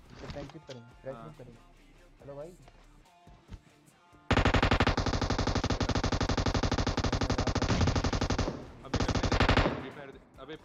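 Automatic rifle fire in PUBG Mobile erupts as a loud, sustained burst of rapid shots lasting several seconds, then breaks off and resumes briefly, after quieter game sounds and a voice at the start.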